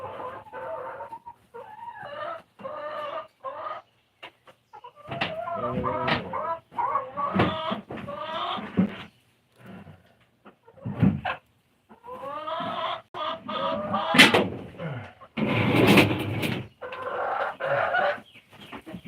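Chickens cluck and squawk in irregular bursts close by, some calls loud and drawn out, with short pauses between outbursts.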